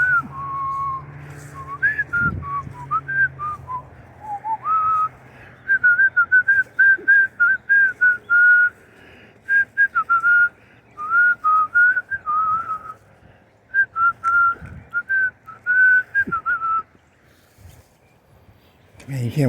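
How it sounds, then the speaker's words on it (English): A person whistles a wavering, off-key tune in short repeated phrases, fairly close and clear, with a voice talking intermittently and some low background rumble. "Man, you can't whistle for shit, man."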